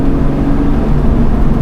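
A loud, steady engine drone from a 400-horsepower Lotus Exige S with a mid-mounted supercharged V6 in race mode, exhaust opened up, held at a constant pitch throughout.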